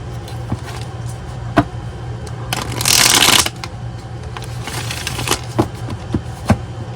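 A deck of playing cards shuffled by hand, with soft riffling taps and one dense, louder riffle in the middle, close up in a quiet room.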